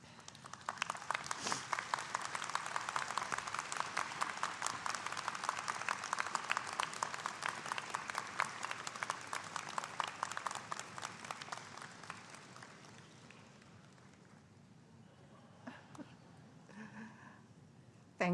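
A large audience at a University of Guelph summer convocation applauds in a long, sustained round of clapping that gradually thins and fades to scattered claps near the end.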